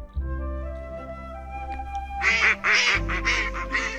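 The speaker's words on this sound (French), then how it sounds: "C'est un canard, tout doux, tout mignon." A cartoon-style duck quacks several times in quick succession over a soft, sustained musical backdrop, in a gentle bedtime story setting.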